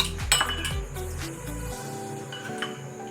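Chicken macaroni pasta in sauce with soy sauce, stirred in a pan with a utensil, giving several clinking scrapes and knocks against the metal in the first two seconds, then a quieter stretch.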